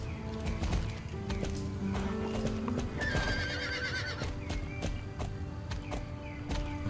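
Horse hooves clip-clop steadily in the Star Stable video game, with a loud whinny partway through and faint bird chirps behind.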